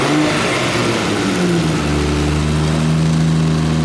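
An 800 hp RB25 NEO engine in a car being driven gently to break it in, a loud close engine drone that rises in pitch and then settles to a steady hum.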